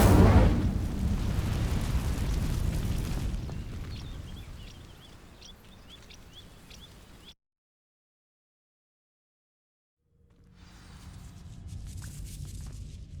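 In the Hogwarts Legacy game, an Incendio fire spell sets dry vines alight with a loud whooshing burst that fades into crackling flames, then cuts to silence before a quieter ambient rumble resumes.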